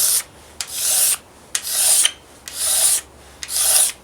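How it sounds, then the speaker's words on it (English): Straight razor scraping grunge off an old Acoustic Research AR11 speaker cabinet, four even rasping strokes with brief pauses between, close and clear with no talking. "See if I can scrape off some of the grunge."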